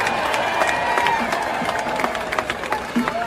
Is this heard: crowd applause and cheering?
yes